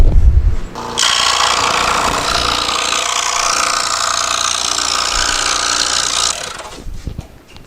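A foot-pedal scroll saw cuts a wooden fretwork airplane piece, a loud buzzing, rasping blade stroke that starts abruptly, runs steadily for about five seconds up close, then cuts off.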